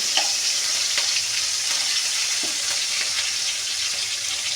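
Green chillies fry in tempered oil for a dish of bottle gourd greens with shrimp. A continuous close sizzle and crackle runs with scattered pops and faint stirring, and no one speaks.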